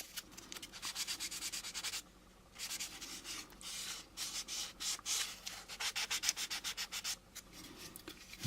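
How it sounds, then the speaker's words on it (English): Repeated light hand-sanding strokes along a plastic model kit part, close and rhythmic, with one brief pause partway through. "And I'm going to sand along here because there's that divot there."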